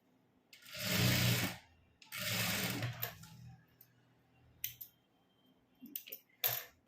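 Sewing machine stitching a churidar top, with two long bursts of steady whirring followed by short stop-start runs and clicks, close and alone.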